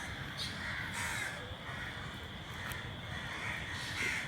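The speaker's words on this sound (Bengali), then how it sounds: "এই মাঠে এখন কাক পাখিগুলো তারা কোলাহল করছে" Crows caw noisily over a wide college field in Rajshahi, repeated harsh calls at moderate distance over a steady outdoor background with no clear talk.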